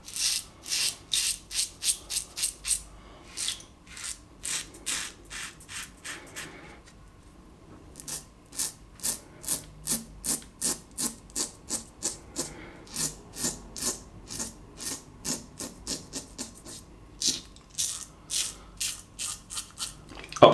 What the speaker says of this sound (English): Third pass with the Shyne razor. Listen to that.